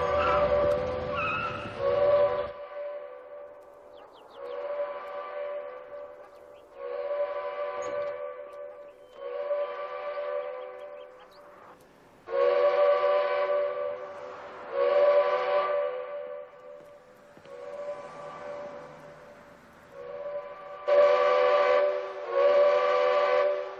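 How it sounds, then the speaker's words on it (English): Prison powerhouse steam whistle sounding in repeated long blasts separated by short gaps, a loud harmonic tone that starts, stops and restarts about eight times. "Sound the powerhouse whistle."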